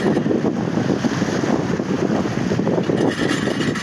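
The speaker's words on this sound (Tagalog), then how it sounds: "Maganda yung hangin. Sarap. Presko." Steady breeze rushing over an open outdoor spot in Bato, Leyte, near water, a continuous broadband wind noise buffeting the microphone at fairly even loudness throughout, with no voices.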